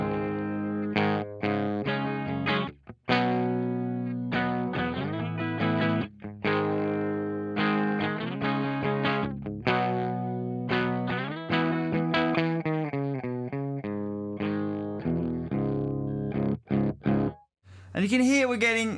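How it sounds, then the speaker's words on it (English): Electric guitar with a humbucker tone, a Washburn played through an amp plugin, as chords and short riffs with slight crunch and chorus-like shimmer, a few brief pauses between phrases. "So this is what it's like with the Washburn on the humbucker."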